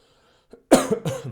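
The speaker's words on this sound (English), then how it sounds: "Sorry for coughing." A short, sharp cough from someone recovering from a cold rings out close by, preceded by a faint throat sound, then a second, slightly softer cough follows.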